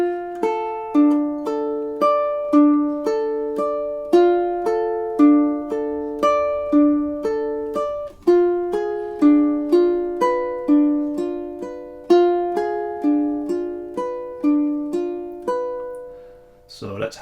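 Solo ukulele plays two measures of Bach's Prelude in C as a classical tutorial example, a steady stream of plucked broken-chord arpeggios with clear repeating note patterns, moderately loud and close, ending with a brief knock.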